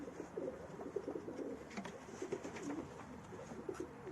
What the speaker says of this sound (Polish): Piękny gołąb.